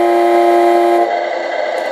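A sound module in a 1/14 Tamiya Ford Aeromax RC truck plays a loud, close, synthetic air-horn blast, one steady tone that cuts off after about a second and leaves a brief fading tail.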